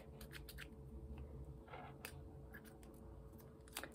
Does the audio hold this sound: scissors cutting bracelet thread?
yes